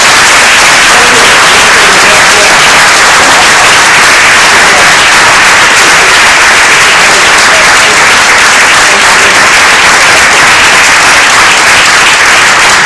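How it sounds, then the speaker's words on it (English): Loud, sustained audience applause fills a climate change panel at a Durham Unitarian Universalist gathering with Governor Jay Inslee, a dense wash of clapping lasting about thirteen seconds with no talk over it. "Let's have another round of applause."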